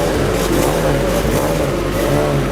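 Travis Pastrana's Subaru rally car accelerates out of service at the Ojibwe Forests Rally, its engine a loud, close, sustained roar with rising revs and some clatter.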